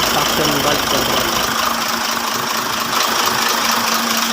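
An Isuzu 6HK1 diesel engine idles steadily after cranking, a continuous droning hum with a faint knocking texture, loud and close throughout.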